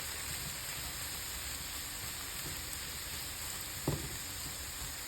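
Carrots go into a sizzling pork and veggie stir fry, a steady quiet frying hiss with one short clunk and a few soft stirring knocks.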